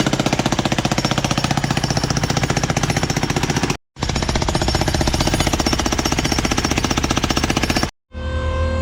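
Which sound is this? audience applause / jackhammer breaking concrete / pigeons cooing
jackhammer breaking concrete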